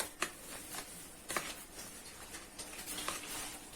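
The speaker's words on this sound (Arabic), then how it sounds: "حاسه ان انا بقى اقلب الخلطه السحريه بتاعتي دي كده" Fish marinade mixture being stirred in a bowl, with soft, faint scraping and wet dabbing strokes at an irregular rhythm, a few sharper clicks of the utensil against the bowl, and no talking.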